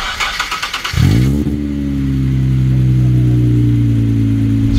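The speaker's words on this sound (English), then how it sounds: "This is certainly no ordinary inline six powered BMW E46 3 Series, because the owner, for some unbelievably crazy reason, has decided to make it sound like a trumpet." A BMW E46 3 Series fitted with a swapped-in Nissan V6 is started and revved up close, then holds a loud, steady, brassy trumpet-like drone with no talking.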